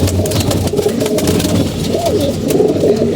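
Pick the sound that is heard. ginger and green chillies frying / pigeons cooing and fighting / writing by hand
pigeons cooing and fighting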